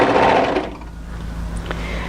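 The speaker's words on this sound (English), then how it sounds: "as I stitch this, I'm just going to make sure the overlocker cuts off all these extra threads" An overlocker sews a seam on a winter sweater and trims the excess threads, giving a loud close motor whir that cuts off after a moment and leaves a low mechanical hum, with no talking.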